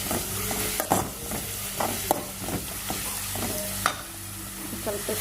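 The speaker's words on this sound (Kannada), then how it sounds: "ಇದು ಚಲೋ ತಂಗ ಹಸಿ ವಾಸನೆ ಹೋಗೋ ತನಕ ಫ್ರೈ ಮಾಡ್ಕೊಳ್ಳೋಣ." Garlic and coriander paste fries in a hot pan, a steady close sizzle broken by several sharp scrapes and clacks of stirring, with no voices.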